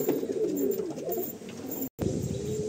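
Andhra pigeons coo steadily in a loft, several birds' low rolling calls overlapping close up, broken by a brief dropout near the end.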